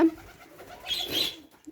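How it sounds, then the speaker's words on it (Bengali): Domestic pigeons kept confined on a small farm of fifty or sixty birds, a brief soft coo followed by a rustling burst, close by and faint, with no voices. "এখানে অনেকগুলো কবুতর আছে"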